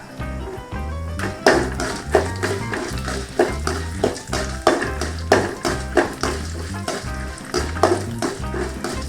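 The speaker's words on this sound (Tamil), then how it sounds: "கடலைப்பருப்பு உளுந்து பருப்பு போட்டுக்கலாம் கொஞ்சம் வதங்கிட்டு" Chana dal and urad dal sautéing in a pan, with steady frying sizzle and repeated rhythmic scraping strokes of a spatula over a constant low hum, loud and close, with background music.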